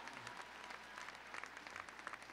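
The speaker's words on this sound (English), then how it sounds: "Give them a round of applause." Steady audience applause at a Department of Corrections graduation ceremony, a dense patter of clapping that holds throughout, moderately distant and fairly quiet.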